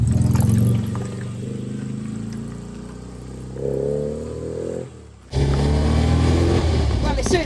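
A 53-year-old 1960s Austin Mini, the Sex Pistols car, idling with a low rough engine note, a brief rising rev, a sudden cut and then a louder engine and rattling interior as it drives off.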